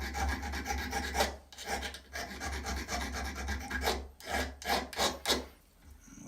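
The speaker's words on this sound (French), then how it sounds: "pour la partie arrondie, on va prendre la lime" Half-round file rasping on copper, shaping an enamel-on-copper pump shoe: steady back-and-forth strokes in repeated bursts, close and fairly loud, with short pauses between passes.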